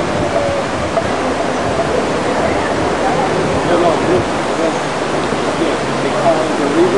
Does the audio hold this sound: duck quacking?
no